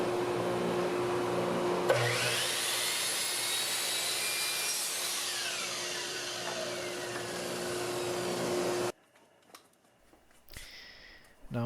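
Steady back-and-forth hand sawing through small pieces of wood for DIY shelves, close and continuous for about nine seconds, then stopping to quieter handling noises.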